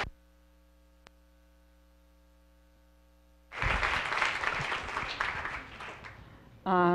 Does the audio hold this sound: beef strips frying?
no